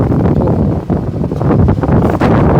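Strong outdoor wind buffets the microphone in heavy, rumbling gusts, loud and close, rising and dipping unevenly with no voices.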